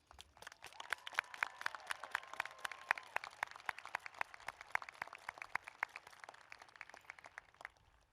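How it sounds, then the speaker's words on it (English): Audience applause at a high school graduation ceremony, rapid sharp claps forming a steady, moderately distant round that holds for several seconds before thinning at the end. "please stand for a round of applause"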